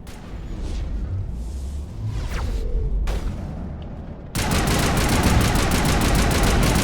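Shotgun and weapon fire in Mass Effect combat in an arena: scattered distant shots and whooshes, then a loud, dense stretch of rapid close gunfire in the second half.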